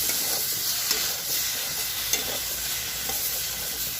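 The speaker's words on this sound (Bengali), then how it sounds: "খানিক্ষণ কষিয়ে নিয়েছি আলু কপি" Potato and cauliflower chunks sautéing in a pan with spices, giving a steady close sizzle with faint stirring scrapes and occasional small clicks, no voices.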